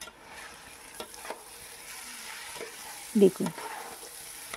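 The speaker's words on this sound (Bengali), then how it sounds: "খুব সুন্দর করে নাড়িয়ে চাড়িয়ে নিচ্ছি। ভালো করে একটু কিন্তু মিশিয়ে নিতে হবে।" Hilsa pulao rice being stirred with fish gravy in a pan, a soft low sizzle under faint scraping, with two louder spoon scrapes near the end and a brief spoken word.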